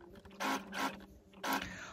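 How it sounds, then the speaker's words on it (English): A sewing machine stitches fabric onto a dress bodice in short mechanical bursts, three whirring runs separated by brief pauses, close and moderately loud with no talking. "now I'm just using my sewing machine to sew them in place"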